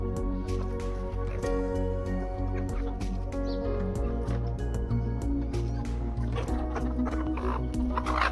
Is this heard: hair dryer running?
no